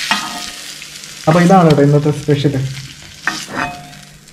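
A spoon stirs cooked jackfruit in a frying pan, giving a light sizzle and scraping under someone talking nearby.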